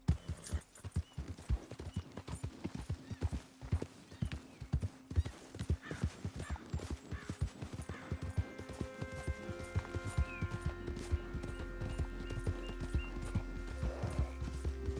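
A horse's hooves beat in a fast, steady clip-clop gallop in Red Dead Redemption 2, loud and close, with a low drone rising beneath the hoofbeats in the later part.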